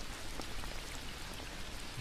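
Steady rain pours down on a stormy night, a dense, even hiss of drops pattering on surfaces nearby, continuous and moderately loud with no voices.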